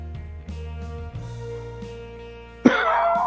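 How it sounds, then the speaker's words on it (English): A person coughs and clears their throat a few times, close and fairly loud, with a harsher cough burst near the end over a steady low hum from a game or computer in the background. "Damn, that cough is killing me."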